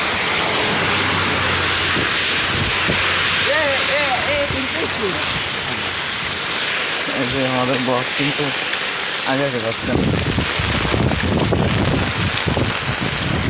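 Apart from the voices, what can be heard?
heavy rain with wind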